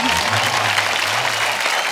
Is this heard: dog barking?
no